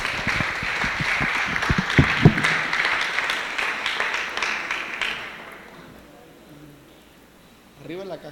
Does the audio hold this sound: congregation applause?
yes